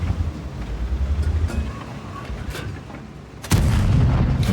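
Tank cannon fire in World of Tanks from a Japanese STB-1 medium tank, a loud broadband blast near the end following a stretch of rumbling engine and distant booms, with no talking.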